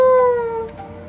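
A cat meowing in the Minecraft video game, a single short high-pitched meow that is clear and close, with no talk over it.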